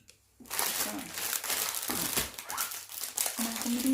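A bag of flower food is crumpled and squeezed by hand, giving close, continuous crinkling and crunching bursts with brief pauses.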